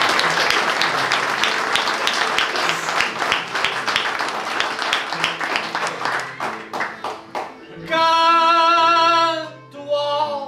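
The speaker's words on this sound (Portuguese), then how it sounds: "palmas para o Samuel" Audience applause and clapping at a sung verse-duel performance, the Cantoria at the 2nd Bodo de Santa Bárbara, dense and steady for about eight seconds before fading as a singing voice takes over.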